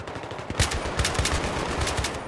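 Heavy gunfire in Battlefield 3 combat, a dense run of rapid automatic shots with punchy low thumps, fairly close and continuous, with no voices over it.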